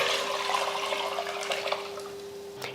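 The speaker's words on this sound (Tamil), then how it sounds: "அதில் தான் இப்போ தண்ணி ஊற்ற போகிறோம்." Pre-measured water is poured into a pot of rice for a one-pot lunch dish, making a steady, close splashing rush that thins out toward the end.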